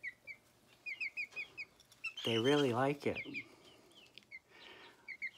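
Chickens cluck and chirp in short bursts nearby, briefly joined by a person's sung and spoken voice in the middle.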